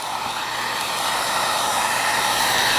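A hair dryer blows steadily and close on filler spread over peeling faux leather, a loud continuous whoosh that swells slightly and stays even with no pauses, heard alone.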